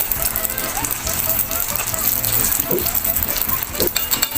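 Steady crackling sizzle of turon frying in hot oil, continuous and close, with occasional louder pops and a faint background voice.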